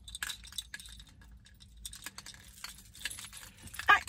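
A set of keys with a car key fob jangles in close, bright metallic clinks, scattered bursts over about four seconds with a louder rattle near the end; no talking.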